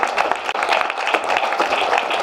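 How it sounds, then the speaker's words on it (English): Audience at a business presentation giving a round of applause, a brief steady burst of clapping heard alone. "we'll give him a huge round of applause, guys."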